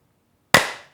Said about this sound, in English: Can we clap?